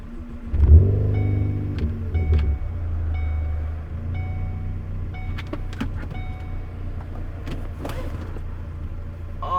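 A 2013 Ford Focus ST drives a mountain road, its engine loud and close from inside the cabin with a strong low drone, a brief surge early on, then steady cruising with a few clicks and knocks.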